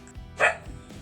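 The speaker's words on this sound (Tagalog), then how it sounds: "Diyan na naman ang aso." A single short dog bark rings out at moderate distance over quiet outdoor background noise at night by the sea in the Philippines.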